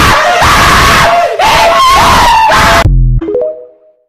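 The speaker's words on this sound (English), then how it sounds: "this is what you get for using lumpy scream sound effect" A lumpy scream sound effect: harsh, loud shrieking bursts in quick succession, breaking off abruptly into a few short fading tonal notes at the end.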